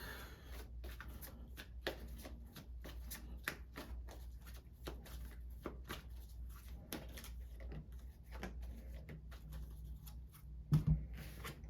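An Energy Oracle deck of cards is shuffled close up, giving soft repeated riffling and slapping bursts at a quiet level, ending with a brief louder knock.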